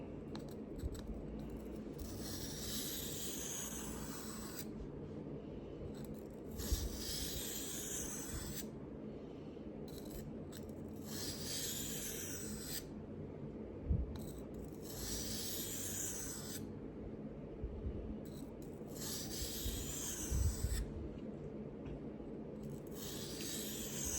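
Stropping a Spyderco Resilience knife blade, with long, even rasping strokes repeating every few seconds over a steady low hum, fairly quiet and close.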